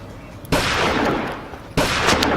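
Two loud, close gunshot blasts about a second apart in an action skit, each a sharp crack followed by a long noisy tail.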